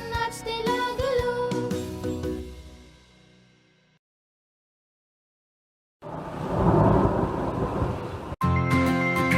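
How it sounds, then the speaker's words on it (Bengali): Rain and thunder open after a children's song fades out to silence: a loud wash of rain with rumbling thunder, then a sharp crack near the end before the music returns. "বৃষ্টি এলো ছম ছম ছম, ছাতা নিয়ে বের হলাম।"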